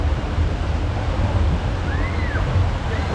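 Water rushes and splashes steadily on a rapids boat ride at Liseberg amusement park, a loud broad roar with wind buffeting the microphone, and no talk over it.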